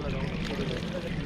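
Cold water runs from a tap at Kedarnath in a continuous close pouring rush, with voices faintly present underneath.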